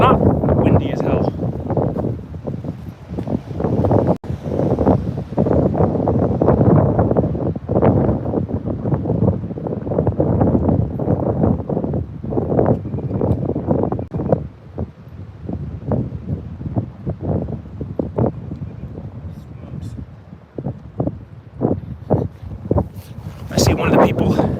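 Strong gusty wind on an open disc golf course in roughly 25 mph winds, buffeting the microphone loudly and continuously with rumbling bursts throughout, under intermittent voices.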